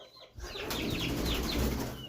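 A young chick's burst of wing flapping rises and continues, a soft fluttering rush mixed with faint chirps from birds nearby.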